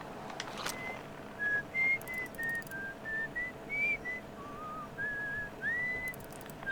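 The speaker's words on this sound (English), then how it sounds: "Somebody's whistling up there." Melodic human whistling picked up through a signal scope in the Outer Wilds game, a sequence of short sustained notes rising and falling in a simple tune, fairly faint and distant over soft ambient hiss.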